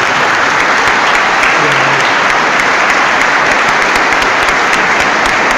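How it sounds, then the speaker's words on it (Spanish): A large congregation at a Christian gathering welcomes a guest with loud, dense applause that holds steady, an unbroken roar of clapping from start to finish. "Recibamos al hermano con un fuerte aplauso."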